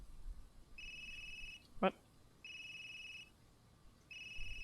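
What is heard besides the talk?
phone ringing after calling the last number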